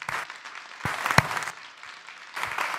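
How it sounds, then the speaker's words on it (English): Audience applause at a collegiate invention competition finals, honoring mentors and volunteers, with steady clapping rising in short bursts, moderately distant, and no talk over it. "Give them a round of applause"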